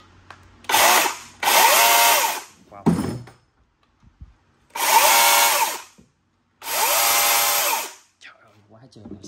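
A DeWalt DCCS677 60V Max cordless chainsaw fitted with a 6Ah battery is triggered in several loud, steady bursts of high motor whine, separated by short pauses, with a brief clunk between runs.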